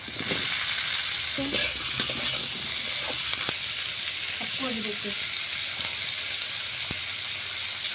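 Potatoes frying with tomato and coriander in a pan, a steady broad sizzle running throughout with occasional stirring clicks and scrapes, close and fairly loud.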